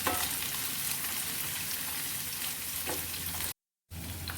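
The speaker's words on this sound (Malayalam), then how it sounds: "സവാള ഇട്ട് കൊടുത്ത് നന്നായി ഒന്ന് വഴറ്റിയെടുക്കാം." Sliced onions with curry leaves sauté in a pan for a raw mango curry, giving a steady close sizzle with occasional stirring scrapes, briefly cut to silence near the end.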